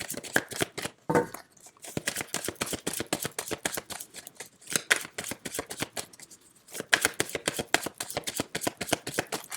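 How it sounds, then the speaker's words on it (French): Tarot cards shuffled by hand, a dense, continuous riffling flutter, close and clear, broken by a few brief pauses as the deck is regathered. "Alors, on mélange bien les cartes."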